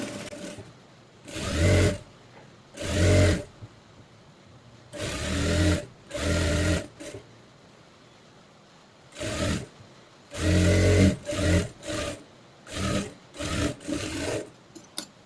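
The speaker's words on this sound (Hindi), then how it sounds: "मैंने यहाँ पर इसमें इस तरह से डबल सिलाई लगा दी है।" Sewing machine running double-stitch seams while fitting a readymade kurti, heard as repeated loud bursts of rapid motor whirring, each lasting about a second, separated by short pauses.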